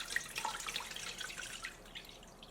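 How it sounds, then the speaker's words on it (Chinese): Clear water is poured off settled homemade lotus root starch, a short, quiet trickling splash that fades out, heard close with no voices. "然后把上层清水给倒出来。"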